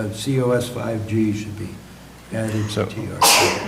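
A sneeze in a meeting room, one sharp loud burst near the end, following conversational speech from people at a county planning commission meeting.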